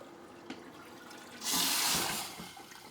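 A space heater plunged into water for a second dunk, heard as a loud burst of splashing and rushing water that swells for about half a second, over quiet background with a couple of faint knocks.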